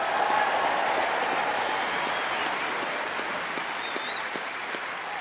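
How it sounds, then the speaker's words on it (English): Tennis crowd applause at the Australian Open, a broad continuous roar of clapping from a large stadium audience, with a brief spoken voice over it. "He should get some applause without a doubt."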